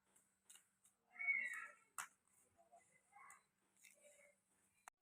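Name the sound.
domestic village cat meowing before a bath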